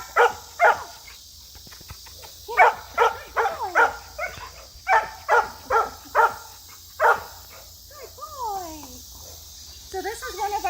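Dogs at an animal shelter bark repeatedly in clustered bursts, loud and close, with a few whining, rising yelps near the end over a steady background hiss.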